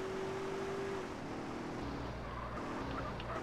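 Car engine in MTA San Andreas revs and drones steadily as it accelerates, a rising tone giving way to a low rumbling hum at moderate loudness, with no one talking.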